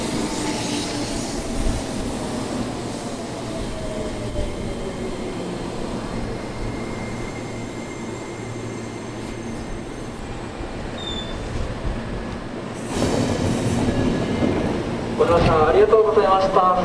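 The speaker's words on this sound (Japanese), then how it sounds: "準急新所沢行きが到着いたします。" A semi-express train bound for Shin-Tokorozawa pulls into a Japanese commuter station, heard as a steady loud rumble of rolling wheels with faint brake squeals, then a surge of station noise as it stops; announcements speak over it.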